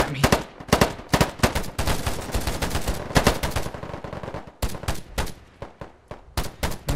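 Rapid bursts of gunfire from the online shooter Polygon, sharp repeated cracks and automatic volleys firing close and loud in uneven clusters with short gaps.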